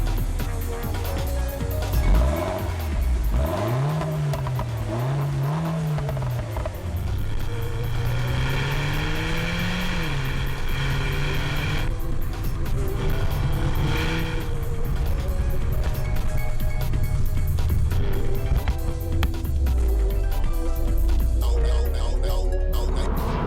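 A MINI Cooper S Coupe from 2015 cruises on a motorway with a steady engine and road drone throughout, and someone talks over it.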